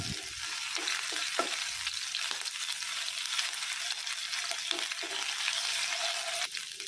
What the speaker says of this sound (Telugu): సన్నగా తరుకున్న పచ్చిమిర్చి 3, 1 టీ స్పూన్ ఫ్రెష్ హోమ్మేడ్ అల్లం వెల్లుల్లి పేస్ట్ లైట్గా సాటే చేసుకుందాము